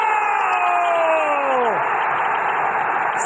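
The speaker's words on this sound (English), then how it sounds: "Sending this crowd into delirium!" Stadium crowd in Football Manager 24 erupts after a goal for Juventus: a falling whistle-like tone gives way to a loud, sustained roar of cheering that fills the whole clip.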